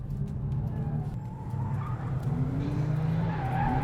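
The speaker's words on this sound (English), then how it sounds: "Oversteer in an Audi, in an Audi that isn't the R8" A 2026 Audi RS5 oversteers on a track, its tires skidding in a sustained, rising squeal over a loud engine drone, close and continuous for a few seconds.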